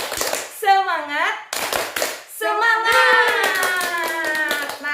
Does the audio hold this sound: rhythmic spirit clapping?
yes